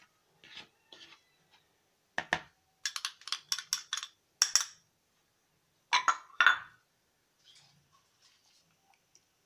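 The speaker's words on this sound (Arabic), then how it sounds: "هقلب المكونات الجافة على بعض وهنزل بيها على السمنة والزيت والسكر اللي ضربتهم كويس" A spoon clinks in bursts against a bowl as flour and baking powder are stirred into beaten ghee, oil and sugar for eggless biscuits, with quiet pauses between the irregular, close-up taps and scrapes.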